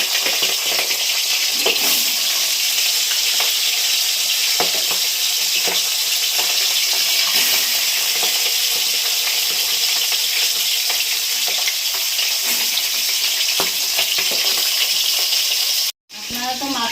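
Steady, loud sizzling of food frying in hot oil in a wok while ridge gourd and fish head curry is being cooked, continuous and dense throughout with a brief cutoff near the end.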